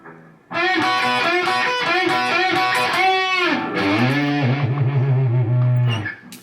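A distorted electric guitar plays a solo up close and loud, with a fast run of bent notes ending on a sustained low note.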